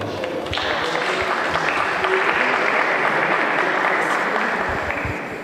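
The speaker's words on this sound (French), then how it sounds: "Applaudissements" Applause at a Téléthon launch event in La Roche-sur-Yon, a dense, steady wash of clapping from a large crowd that swells in after a brief pause and holds strong before tapering slightly at the end.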